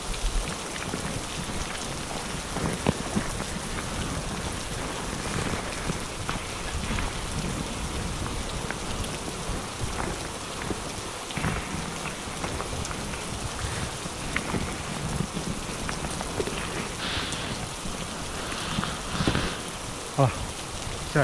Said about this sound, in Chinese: 还是碰到大雨